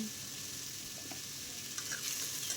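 Potato and fish roe curry with chilli, salt and turmeric stirred in a pan, a soft, steady sizzle with a couple of faint scraping strokes, fairly quiet and close, no talking.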